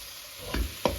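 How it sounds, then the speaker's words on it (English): Pak choy stir-frying in a pan, a faint steady sizzle with two quick scraping tosses near the end, close up and brief. "Stir frying continues."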